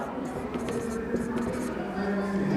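Marker or chalk scratching steadily across a classroom board during a Hindi-medium English grammar lesson, close and continuous for a couple of seconds, with faint whispery breath in the background.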